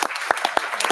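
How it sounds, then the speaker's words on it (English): Applause from a city council meeting audience for city officials, a brief burst of a few distinct claps over a steady wash of clapping, moderately near. "let's give a round of applause to our city officials."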